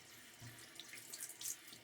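Water runs from a sink tap to wet a shaving lather, a soft continuous hiss and trickle heard alone at fairly low level.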